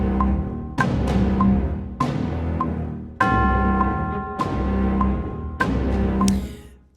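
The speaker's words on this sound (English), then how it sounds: "I want that bell here." Bell tones in a video game music composition ring out in a steady sequence of about eight struck notes, each with a bright attack and a shimmering decay, loud and close with no voices.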